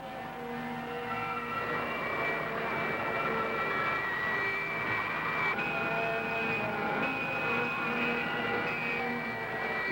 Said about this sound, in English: I'll increase the thrust to Mach 80.